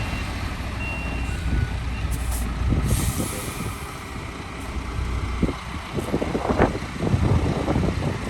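Reversing beeps ring out repeatedly as UD trucks are arranged and maneuvered on a lot, over rumbling truck engines, hissing air brakes and gusts of wind on the microphone.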